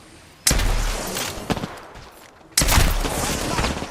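Video game gunfire bursts in two loud heavy volleys with a few sharp single shots between them, under occasional voice chat.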